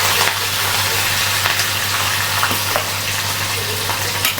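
Onion and whole spices such as cinnamon and green chilli frying in a pan give a steady close sizzle throughout, with faint crackles and stirring scrapes and a low hum underneath, no voices.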